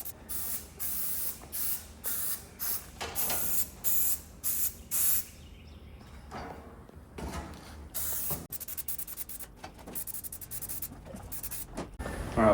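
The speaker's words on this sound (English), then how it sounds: "I'm gonna spray some of this graphite wheel color over it to try to make it match the truck" A spray can lays graphite wheel-colored paint onto a Chevrolet C10/C30 truck part, first in about nine short, even hissing bursts, then in longer, steadier sprays, close up with no talking.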